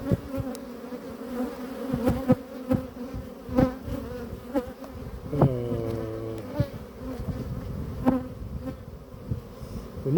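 Dense, steady buzzing of many honeybees close by at a hive during queen caging, with individual bees droning past and occasional sharp clicks and knocks.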